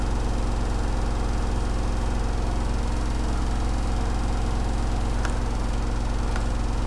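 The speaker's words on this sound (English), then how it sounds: "Gee, the washing machine in the back is loud." A washing machine running loudly in the background of a room, a steady mechanical hum and vibrating drone that stays constant throughout, with a couple of faint clicks near the end and no talking.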